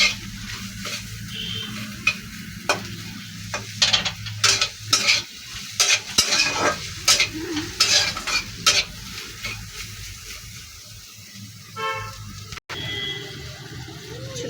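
Neem leaves and papaya fry in a little oil, stirred with repeated sharp scraping strokes of a utensil against the pan over a low, steady sizzle.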